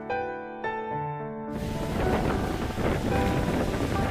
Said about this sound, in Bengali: অশান্ত ঢেউগুলো পাথরে এসে আঘাত করছে অনবরত।